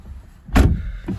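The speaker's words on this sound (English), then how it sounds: "So jumping inside, I'll just close that door." A car door on a BMW M235i xDrive Gran Coupe shuts from inside the cabin with one solid, muffled thud, and a softer bump follows a moment later against a quiet interior.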